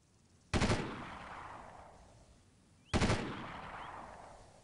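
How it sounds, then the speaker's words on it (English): Two distant gunshots from a squadmate in Delta Force 2, each a sharp single report followed by a long echoing decay, spaced about two seconds apart over quiet background. "Charlie 2 is shooting at somebody"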